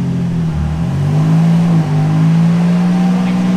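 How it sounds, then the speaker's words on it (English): A turbocharged Nissan Z31 engine with Megasquirt management, running almost 20 psi of boost, drones steadily at a low pitch on a dyno, its tone rising slightly as it loads up, loud and continuous with no talking. "You'll hear the engine load up."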